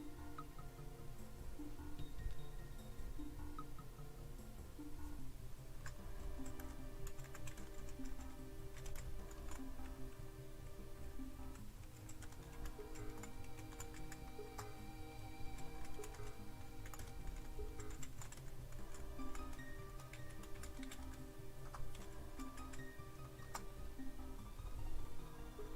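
Steady computer keyboard typing at a desk, a continuous run of close, light key clicks with irregular rhythm and no talking over it.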